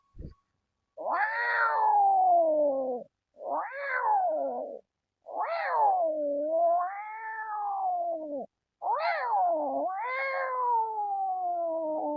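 A human voice imitates fighting cats with five loud, drawn-out yowling meows and caterwauls in a row, separated by short silences, with no other sound.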